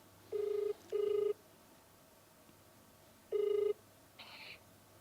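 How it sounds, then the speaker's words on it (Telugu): Outgoing phone call ringback tone: two quick ring bursts, a pause, then another ring, clear but moderate over a quiet room hum, with a faint chirp near the end. "ఇప్పుడు అమ్మాయికి కాల్ చేద్దాము"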